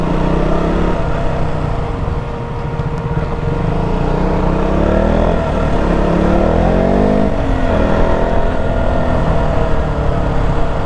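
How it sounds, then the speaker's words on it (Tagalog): A motorcycle's cooling fan runs loud and close, a steady whirring roar with an engine-like drone beneath it that holds at an even level throughout. "Lakas ng tunog ng kanyang cooling fan, naririnig hanggang dito."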